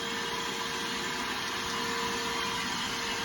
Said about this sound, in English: So, let's turn the vacuum on. You can see we're sucking fuel up.